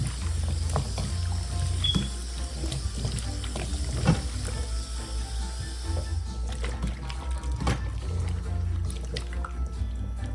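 Running water splashes and trickles steadily over a pumpkin being washed in a home kitchen while cooking curry shrimp in coconut milk with pumpkin rice, with scattered drips and knocks throughout.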